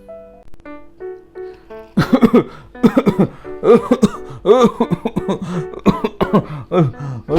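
Someone with a long-lasting cough coughing repeatedly, harsh bursts in quick succession, close and loud, after a brief tone at the start.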